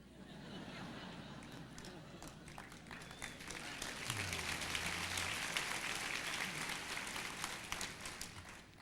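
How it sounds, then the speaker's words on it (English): An audience at a college commencement applauds, steady dense clapping heard from within the room, with murmuring crowd noise mixed in, continuing for several seconds at moderate loudness. "you don't know what you're clapping for"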